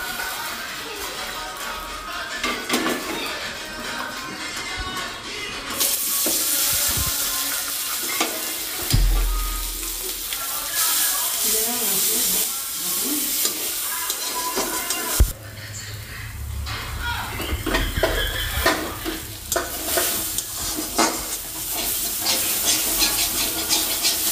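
Leafy greens with chili fry and get stirred in a hot pan for a greens paste dish, a loud continuous sizzle broken by scraping stirs and brief surges, with no talking.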